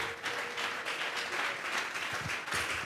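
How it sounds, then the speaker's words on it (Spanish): Congregation at a church service applauding together, a steady, dense wash of many hands clapping that holds evenly throughout without talk. "Vamos a regalarle ofrenda de palmas al Dios de la gloria."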